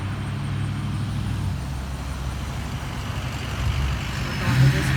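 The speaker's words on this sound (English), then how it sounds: "I know you can hear the traffic noise." Continuous traffic rumbles along a main road, with cars and trucks passing nearby at a steady moderate level. A heavier vehicle swells louder near the end.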